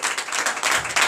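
A church congregation at a Sunday service breaks into steady, dense applause and clapping that fills the room at an even level from start to finish.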